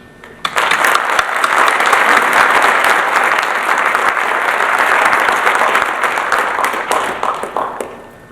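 Audience applause at a 2004 lecture on sustainable agriculture, greeting a Rothamsted Research scientist as he comes up to speak. The clapping is loud and dense, starts sharply, holds steady for several seconds, then thins into scattered claps at the end.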